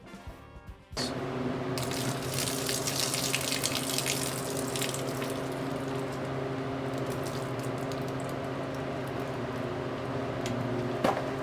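Coolant drained from a 2012 CODA electric car pours onto a driveway in one continuous splashing stream. It starts abruptly after a brief quiet moment and runs steadily to the end.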